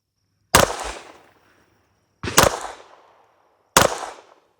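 Three loud, sharp shots from an Alfa Foxtrot Romulus 2011 pistol ring out about one and a half seconds apart, each followed by a short, echoing decay.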